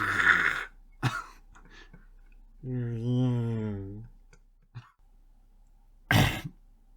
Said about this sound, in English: I did need to clear my throat.